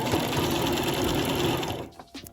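A sewing machine stitches wig tracks in a rapid, continuous close-up whir that stops near the end, followed by a few faint handling taps.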